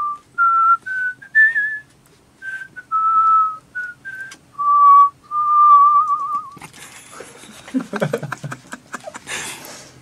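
A man whistles a melody alone, near and clear, in sustained phrases with brief pauses, then the tune gives way to rustling, laughter and talk.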